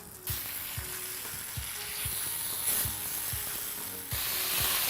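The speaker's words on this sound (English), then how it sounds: "I've allowed the potato to cook for a few minutes with the onions, garlic and ginger, the chilli and the spices" Potato cooks in a pan with onions, garlic, ginger, chilli and spices for an aubergine, capsicum and potato curry, producing a steady bright sizzle under regular soft thuds of stirring, growing slightly louder toward the end.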